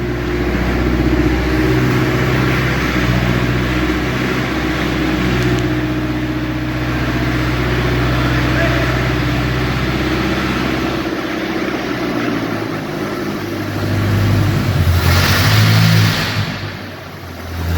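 A car engine runs with its exhaust disconnected, giving a loud, rough, unmuffled drone close by. It keeps rumbling steadily and swells into louder revving surges near the end.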